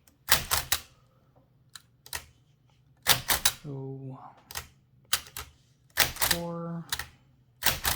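Keys clack on a 1920-1922 Helios-Klimax typewriter in loud bursts of strikes, with a bell-like ring and the carriage moving between them, while a person talks over and between the typing.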